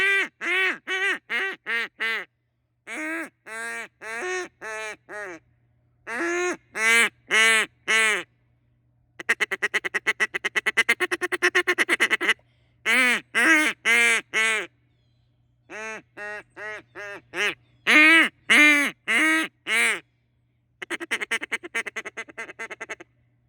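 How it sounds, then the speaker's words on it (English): A Duck Commander Shadow duck call blown hard for a raspy tone, loud close bursts of quacking in rhythmic series separated by short pauses, including a long rapid feeding chatter in the middle, with no talking. "if you blow harder, it gives it a raspier sound."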